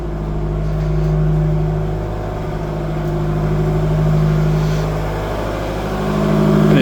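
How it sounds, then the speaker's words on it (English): A diesel generator runs steadily in a ship's engine room aboard the SS Explorer, a loud continuous low hum with strong engine harmonics and slight swells in level throughout, no voices over it. "There is a diesel generator running."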